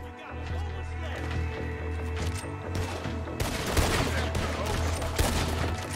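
Rifle gunfire in the video game Red Dead Redemption II, repeated shots cracking over a steady game soundscape, growing denser and louder in the second half, with voices underneath.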